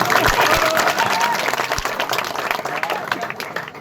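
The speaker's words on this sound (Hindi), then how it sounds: "तो काहे ना महिला के लिए एक बार ताली जरा लगा दीजिए।" A crowd at a political rally claps for a woman, loud and close, with scattered sharper hand claps over a broad wash that tapers off slightly toward the end.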